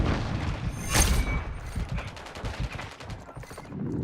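In Call of Duty: Modern Warfare 3, a stun grenade bursts amid rapid bursts of automatic gunfire, the shots and impacts crackling densely with a sharp bang near the one-second mark.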